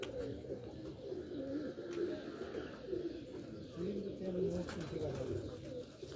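Sialkoti pigeons coo in an overlapping, throaty chorus, close and fairly steady, with rising and falling calls repeating throughout the short stretch.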